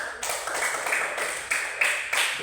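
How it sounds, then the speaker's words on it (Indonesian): Clapping in a classroom, where a small group of students claps for a classmate in a quick, roughly synchronized rhythm of sharp, fairly close claps with a few louder beats. "sekarang kita beri aplaus tepuk tangan untuk teman kita"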